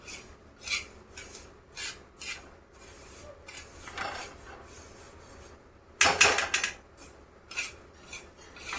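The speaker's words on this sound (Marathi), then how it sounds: "मी इथे तवा घेतलाय, तव्यामध्ये भाजून घेतले." Flaxseeds being dry-roasted on a tawa griddle over low gas, with a spatula scraping and rasping across the hot metal in short intermittent strokes and one louder burst near the end.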